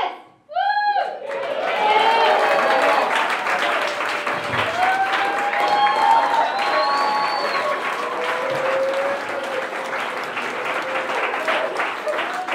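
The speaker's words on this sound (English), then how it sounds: "Let's give her another round of applause." An audience breaks into loud, sustained applause that starts abruptly and keeps going at full strength, a dense wash of many hands clapping with faint cheers mixed in.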